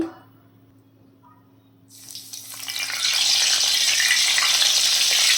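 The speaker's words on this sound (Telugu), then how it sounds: "మిరపకాయలు కూడా ఫ్రై చేసుకుందామండి" Chilies frying in hot oil for a poha mixture. After near silence and a low hum, a sizzle swells up and then holds steady and fairly loud.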